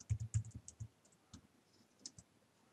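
Someone types a short command into R on a computer keyboard, a quick cluster of close, crisp key clicks followed by a few sparse taps, then quiet.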